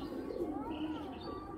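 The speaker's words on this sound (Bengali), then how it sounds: "এটা একটা বেলজিয়ামের নর, ঠিক আছে," A large Belgian male racing pigeon coos close by in a steady, continuous low murmur throughout, with no talk over it.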